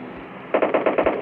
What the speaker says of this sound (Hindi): कोई तो गोलियां चला रहा है इसके।